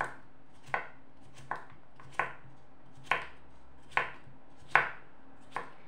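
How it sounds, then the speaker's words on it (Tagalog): Knife chopping cucumbers for a mango avocado salad, with seven crisp, evenly spaced cuts against a board, close and clear with no talking. "magkakat muna tayo ng ating cucumber na ihalo din sa ating salad for today"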